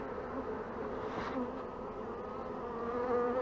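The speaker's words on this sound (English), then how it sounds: "Bees are getting antsy." Honey bees buzzing around an opened hive during a brood check: a dense, steady drone of many wings close by, slightly rising in intensity, with no voices.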